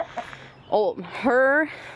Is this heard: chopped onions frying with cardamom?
no